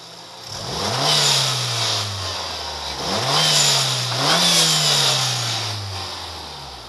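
A 1995 Toyota Celica GT with a swapped 3SGTE turbo engine and HKS blow-off valve, revved three times up close, each rise ending in a loud hissing whoosh of the valve venting before the engine settles back to idle.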